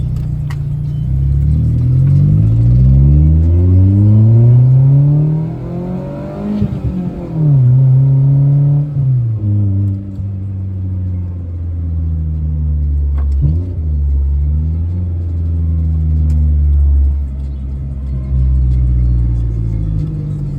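A 2004 Maruti Suzuki Zen type 2 with a custom exhaust revs repeatedly, its loud, close engine note rising and falling through several throttle blips over a deep rumble.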